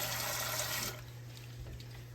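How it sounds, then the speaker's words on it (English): Water runs from a tap into a cooking pot, a brief loud splashing rush that cuts down after about a second to a quieter trickle, close by and without talk. "I'm going to put a little water in this pot."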